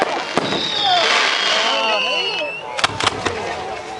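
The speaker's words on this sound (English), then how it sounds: "Oh, they have fireworks down there too?" Fireworks over Hampton Beach whistle and crackle in a shimmering spray, followed by a few sharp booming bursts, with people talking nearby.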